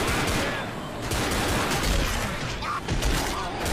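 Sustained gunfire against zombies in the video game Left 4 Dead, a steady, loud rattle of overlapping shots with a few heavier thumps mixed in and faint voices in the background.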